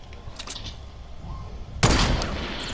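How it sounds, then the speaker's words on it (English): A single sharp sniper rifle shot in the Fortnite video game, a loud sudden crack that breaks a quiet ambient stretch and leaves a noisy tail. "I'm finna snipe him"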